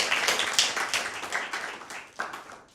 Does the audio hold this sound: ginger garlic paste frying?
no